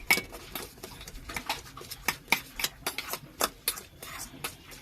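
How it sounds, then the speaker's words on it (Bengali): A spoon clicks and scrapes against a bowl while onion, chopped chilli and salt are mixed for street-style egg toast, with quick irregular taps up close and no voices. "যাতে পেঁয়াজ লঙ্কার চারিদিকটা নুন লাগে সেরকমভাবে মিশিয়ে নিতে হবে"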